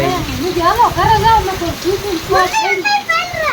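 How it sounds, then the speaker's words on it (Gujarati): Heavy monsoon downpour rains steadily on surfaces outdoors, a constant dense hiss beneath voices of people and children talking nearby. "કેવો વરસાદ"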